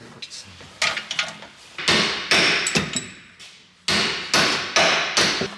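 Hammer blows on metal during a car half-shaft (drive axle) replacement: roughly nine sharp, ringing strikes, some in quick pairs, with short gaps between them, close and loud.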